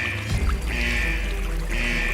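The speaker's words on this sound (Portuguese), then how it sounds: "A água começara a adentrar em vários pontos." Water pours and rushes into a flooding submarine as a sound effect, a steady gushing flow with a low rumble and faint hiss, heard alone.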